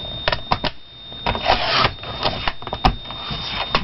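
Paper being trimmed to size for handmade cards, a series of short sharp cutting and sliding clicks in an irregular rhythm, close and fairly quiet with brief pauses between strokes.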